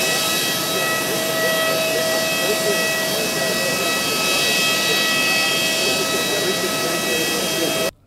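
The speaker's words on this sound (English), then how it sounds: "national carrier A330 landed at the old airport base" Airbus A330 passenger jet of the national carrier landing at an old airport base, a steady loud roar of jet engines held for about eight seconds before cutting off abruptly.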